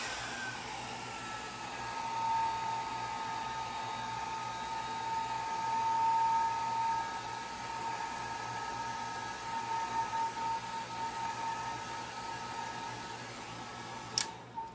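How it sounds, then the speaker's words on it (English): A hair dryer blows steadily and close by for the whole stretch, drying alcohol ink on a multi-layer flower piece, with an even, unbroken whoosh and no talking. "All right, so let me dry this."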